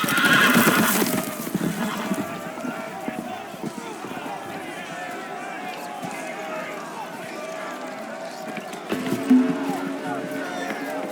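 Horses whinny loudly at the start in the Game of Thrones video game, followed by a steady rumble of hooves and commotion, with a voice calling out under the noise.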